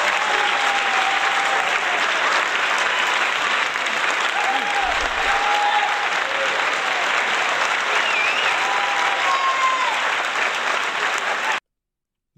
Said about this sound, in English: Damn, you deserve a